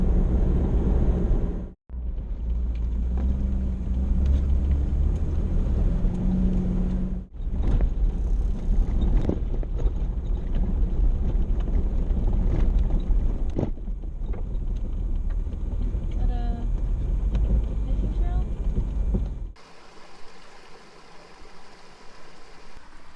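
A vehicle cruises down a road, its steady engine rumble and road noise running continuously with a couple of brief dropouts and wind buffeting the microphone, ending in quieter ambience.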